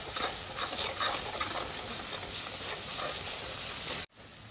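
Oil sizzles and hisses in a pan while turmeric and whole coriander are stirred into a soybean curry, with soft scraping strokes over a steady fry. It carries on evenly until it cuts off abruptly near the end.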